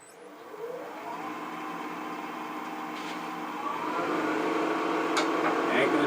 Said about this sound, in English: I'm going to use a bowl gouge for this, 1/2 inch, and we're just going to try to get it round